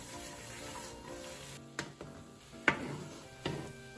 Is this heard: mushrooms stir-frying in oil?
yes